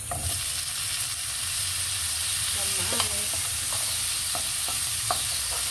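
Tomatoes sauté for ginisang sitaw in a hot pan, a steady loud sizzle with occasional light clinks of stirring throughout.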